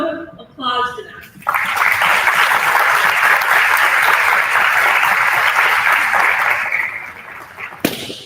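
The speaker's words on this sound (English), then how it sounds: "Another loud applause for them." Loud applause from an audience honoring award recipients at a school honors night, sustained and dense for several seconds before fading out, preceded by brief speech.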